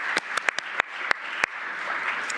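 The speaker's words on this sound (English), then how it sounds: "Applause, please." Scattered handclaps from a few delegates at the Minamata Convention COP6 morning plenary meeting: about eight sharp, separate claps spread over two seconds against a steady room hum, with no sustained ovation.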